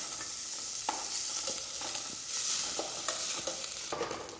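Onion and chopped garlic frying in hot vegetable oil, a loud close sizzle broken by repeated stirring scrapes.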